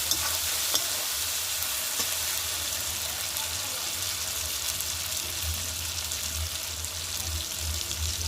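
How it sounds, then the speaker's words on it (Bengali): Lauki kofta curry with chili powder is stirred in a hot pan, making a continuous sizzle with scraping and rustling stirring strokes that keep up for several seconds, close and steady, with no talking. "ভালো করে নাড়াচাড়া করে নিলাম"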